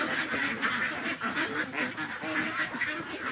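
Ducks quack continuously and close by in a busy, overlapping chorus while feed is scattered for them. Steady ambient noise runs underneath, and no one speaks.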